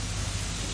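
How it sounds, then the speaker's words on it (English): A dense, even hiss of steam coming off a hot gold bar quenched in water fills the moment, a constant close rush without breaks or speech. "There's a lot of steam coming off."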